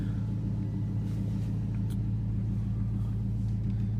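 A warmed-up 2007 Dodge Charger R/T with the Road & Track Package idles steadily, its engine giving a deep, constant low rumble with no revving, close by and alone.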